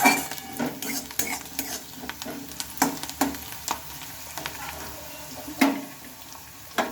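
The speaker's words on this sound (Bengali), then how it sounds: "রসুন কুচিটাও আমি দিয়ে নিলাম আর একটু ভালোভাবে নেড়ে চেড়ে নেব" Chopped garlic fries in a pan for a leftover rice fry dish. A spatula stirs and scrapes it in repeated clinks and scrapes over a soft, steady sizzle.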